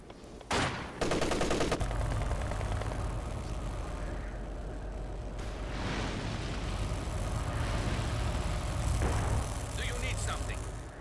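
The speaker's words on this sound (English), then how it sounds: "Launching incendiary artillery barrage." An incendiary artillery barrage in the WW2 strategy game Company of Heroes 2, USSR against Germany, rendered as dense, continuous rumbling explosions and gunfire, with a sharp burst near the start and distant crackling throughout.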